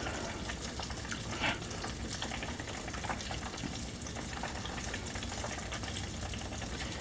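Chicken pieces fry in a pan with a steady, dense sizzle and crackle throughout, close and fairly loud, with no talk.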